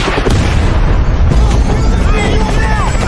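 A missile explosion destroys a US helicopter during a battle scene in an action movie, giving a loud, dense, sustained rumbling blast with crackling debris across the whole stretch and a few whistling tones near the end.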